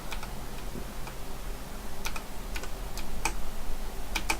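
Computer keyboard keys clack in sparse, irregular bursts over a quiet room hum, close and fairly faint, with no voices.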